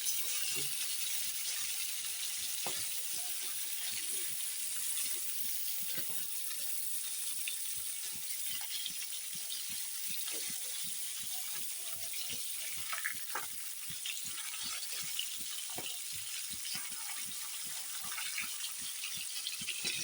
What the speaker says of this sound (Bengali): মাছগুলো দেখো এক পাশ ভাজা হয়ে গেছে